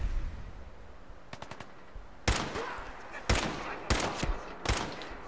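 Bursts of rapid gunfire from a Fallout 4 firefight against raiders: scattered quick shots, then several loud, sharp volleys that ring out and decay, with no talking.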